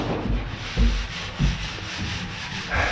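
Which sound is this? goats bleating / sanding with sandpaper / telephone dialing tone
sanding with sandpaper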